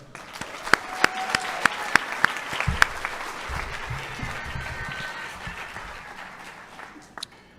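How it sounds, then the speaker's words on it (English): An audience claps at a high school senior athletic awards event, a few sharp claps at first swelling into sustained applause that gradually fades away. "Another round of applause for her."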